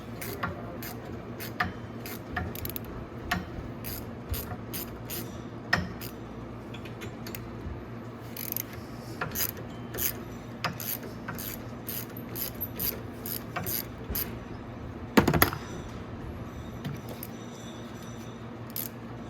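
Bolts are loosened with a ratcheting tool from the rear axle of a Venom Mini Jeep 125cc, a close, repeated series of quick metallic ratchet clicks and clanks, with one louder clatter near the end.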